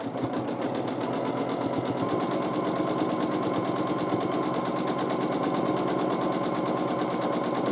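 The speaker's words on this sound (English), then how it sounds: "And now let's quilt the dense swirls." A sewing machine quilts dense swirls in one continuous high-speed run, a rapid, buzzing needle rhythm that stays close and even from start to finish.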